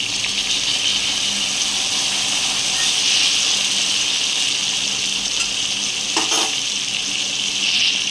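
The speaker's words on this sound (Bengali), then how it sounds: "আলুগুলো প্রায় লাল লাল করে ভাজা হয়ে গেছে আর বেশি ভাজবো না এবার এর মধ্যে এই পেস্টটা আমি দিয়ে দেবো" Spice paste hitting reddish fried potatoes in hot oil for a village-style vegetarian aloo dum, giving a loud, steady, hissing sizzle that runs throughout with a couple of brief bursts of louder crackle, no talking.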